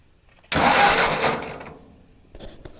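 A Ford 8N tractor engine turns over on its starter, a sudden loud burst of cranking that holds for about a second and fades, followed by a few short softer bursts at the end.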